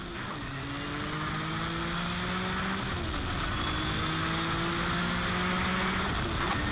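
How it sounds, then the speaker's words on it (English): Paul Newman's Nissan 300ZX race car pulls hard on track, its turbocharged engine droning loudly and steadily while the pitch climbs through the gears and dips briefly at a shift, with turbo whine riding on top. "Listen to the turbo."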